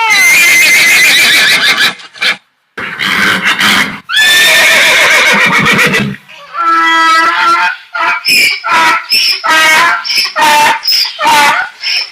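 A donkey brays loudly and close by in several long, harsh, see-sawing calls. These give way to a run of shorter, choppy honks.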